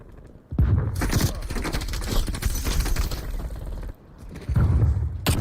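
Rapid automatic gunfire in a Call of Duty match, a loud sustained burst of shots with mechanical clatter, a brief pause, then another loud volley close up.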